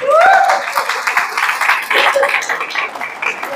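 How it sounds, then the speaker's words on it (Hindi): An audience at a training session bursts into loud, dense clapping that continues steadily. A voice briefly rises over the applause at the start. "जोरदार तालियां।"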